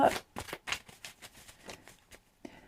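Tarot cards being shuffled and drawn, a rapid series of crisp riffling flicks and slaps, close and steady, with faint talking underneath.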